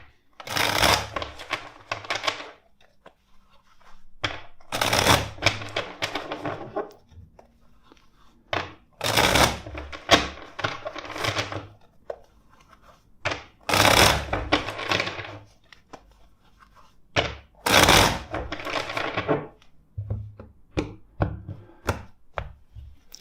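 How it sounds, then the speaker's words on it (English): A deck of tarot cards is shuffled by hand in repeated riffling bursts, crisp and close, each burst followed by soft taps and slides of the cards. "First, let's shuffle the deck."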